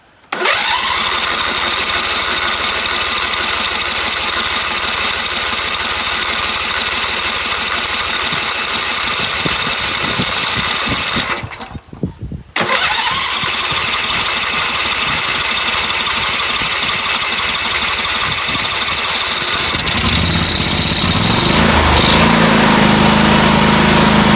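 A John Deere LT166 lawn tractor engine runs loud and steady at full throttle, with a brief dropout midway before it picks back up, then shifts to a rougher, lower idle near the end.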